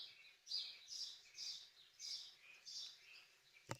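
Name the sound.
bird chirping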